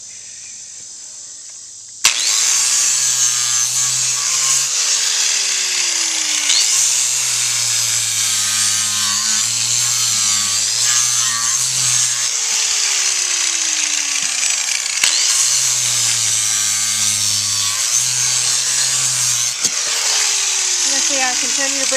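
A power grinder trims a horse's hoof during a barefoot trim, a high whining buzz that starts abruptly and runs steadily, with its pitch sliding as the tool bites, while a person talks underneath.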